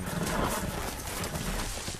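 Rapid video game horse hooves clip-clop at a gallop in Telltale's Game of Thrones, loud and close, with a brief whinny-like tone over the steady thudding.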